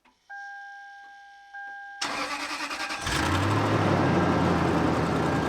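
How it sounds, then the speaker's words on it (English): A parked car's engine is started after sitting unused, with a cranking starter whirring for about a second before the motor catches and settles into a steady, close idle. "I actually haven't even started the car yet. I don't know if it'll still start."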